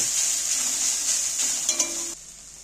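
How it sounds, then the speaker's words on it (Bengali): Cabbage filling for a flour-and-cabbage snack stirred as it fries in a pan, with a steady bright sizzle and a few scraping clinks of the spoon near the end before it quiets. "এবার নেড়ে নেড়ে ভেজে নেবো পুরটা তৈরি করে নেব"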